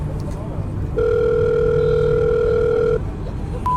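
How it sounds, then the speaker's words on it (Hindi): A single steady electronic telephone ringback tone lasting about two seconds, set against faint background noise. "उसने तुरंत उसे फोन किया"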